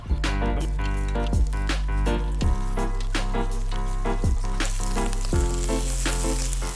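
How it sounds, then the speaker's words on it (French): Green asparagus spears sizzle steadily on a hot brazier plancha grill, a continuous frying crackle with sharp periodic pops over a loud, dense background. "Donc vous voyez, ça grille assez vite."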